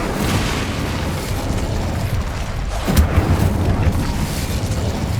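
In the Hogwarts Legacy video game, an Incendio fire spell goes off as a loud, dense whooshing roar with a low boom swelling near the middle over continuous game noise.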